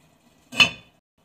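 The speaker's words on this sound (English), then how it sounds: "now we're going to cover it with the lid and let it cook." A single short clatter of a lid set onto a pot of lamb curry, a metallic clink with a brief ring that fades within a fraction of a second, close and otherwise quiet.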